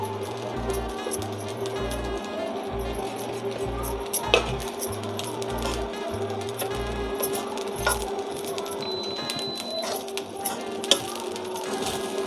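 A spoon scraping and clinking in a pot while leftover spices are stirred into rice, a steady rhythmic knocking with soft clatter and faint sizzle, recorded close by and alone.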